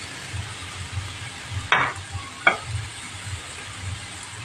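Boiled green lentils stirred into onions and tomato paste in a pan, two short scraping strokes of a spoon against the pan over a faint, steady sizzle.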